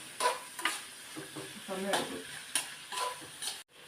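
Vegetables and onion for upma sauté in a pan, with a soft, steady sizzle and repeated stirring scrapes close by, fairly quiet, a faint voice briefly in the background.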